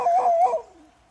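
A dog gives one short, high, wavering whimper that slides downward and trails off within about a second, close by and alone.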